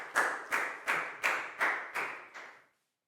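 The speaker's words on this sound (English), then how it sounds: "High five and a big round of applause for Lakao, please, guys." Classroom applause sounding as seven evenly spaced, reverberant claps in a steady rhythm, each ringing briefly before the next, then stopping into silence.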